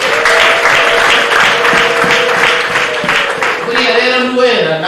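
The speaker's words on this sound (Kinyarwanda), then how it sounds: "Aha mwongere Imana amashyi rwose." Guests at a wedding break into loud applause that settles into rhythmic, synchronized clapping, with a voice calling out over it near the end.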